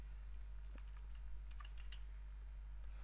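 Quick bursts of computer keyboard typing, a few clustered key taps close by over a quiet electrical hum.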